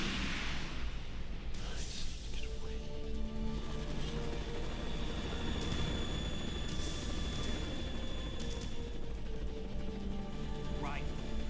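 A Harrier jet roars steadily in the Metal Gear Solid 2 Substance video game, a loud continuous rumbling drone with whooshing swells and distant blasts, while voices talk over it.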